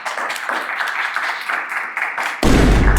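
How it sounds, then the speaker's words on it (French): A studio audience applauds a contestant on a dating show with steady clapping that swells suddenly louder and fuller near the end. "Applaudissez-le, s'il vous plaît."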